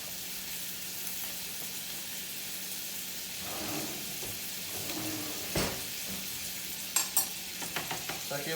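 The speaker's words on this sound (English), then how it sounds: "your butter seems to be melting away. It's getting this big pile that you're going to be using to baste your steak with." Steak sizzles in a pan of melting butter during basting, giving a steady, close frying hiss with soft stirring and scraping, and a few sharp clinks near the end.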